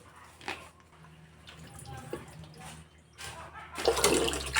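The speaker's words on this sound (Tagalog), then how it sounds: "Yung okra hugasan din natin." Vegetables and okra washed under water, with splashing and dripping from a tap nearby, rising into a louder rush of running water near the end.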